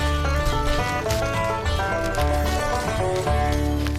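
Working horses on a plowing field, heard as steady rumbling hoof and harness noise with a dense layered background, loud and continuous with no speech.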